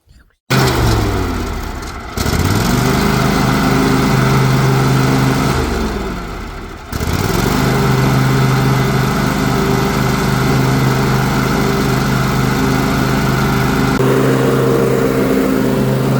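A Husqvarna garden tractor engine with a fault runs steadily and loudly, briefly cutting out and restarting twice before settling into a continuous idle-like drone.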